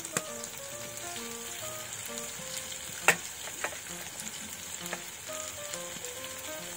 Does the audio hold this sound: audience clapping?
no